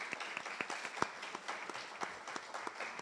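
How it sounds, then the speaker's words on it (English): An audience at a League of Women Voters meeting claps steadily for about three seconds: a dense patter of many hands, fairly close and moderately loud, with no voices over it. "Can we have a round of applause?"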